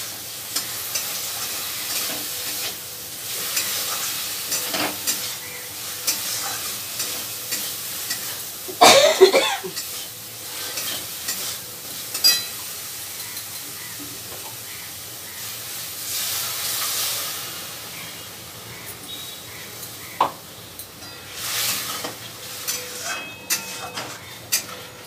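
Onion, ginger, garlic, tomato, green chilli and ground cumin, turmeric and chilli stirred and frying in a pan, a steady close sizzle with scraping stir strokes and a louder clatter near the middle, no talking.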